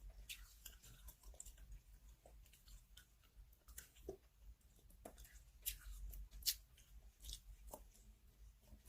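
Close, quiet crunching and chewing of a square snack, with irregular crisp bites and mouth sounds spread over several seconds in an otherwise silent space.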